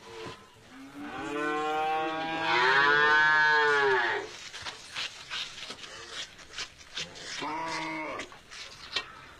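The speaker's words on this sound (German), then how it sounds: "da ist eine Kuh los, das darf gar nicht sein" A loose cow lets out a long, loud, drawn-out moo, followed by clattering and rustling, then a second shorter moo.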